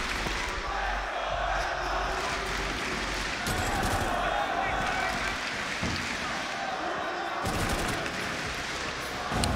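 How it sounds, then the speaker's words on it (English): A crowd roars and chants continuously in an arena during an esports grand final between two Rainbow Six teams, the dense crowd noise filling the whole stretch with a commentator's voice running over it. "I have no idea who the crowd is chanting for."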